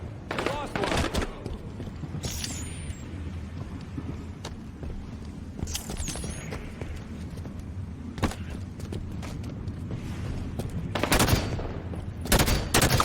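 Battle rifle gunfire in Halo 5 on the Eden map, with repeated burst shots throughout, the loudest clusters near the start and end, over steady game ambience and footsteps.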